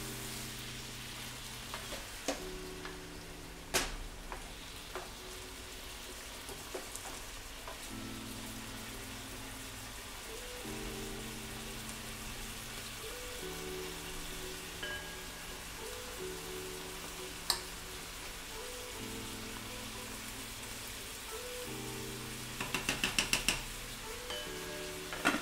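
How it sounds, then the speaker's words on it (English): Food sizzles steadily in a pan with a soft, constant hiss, a few clinks of utensils, and a low cyclic hum underneath. "that sizzling is getting pretty loud"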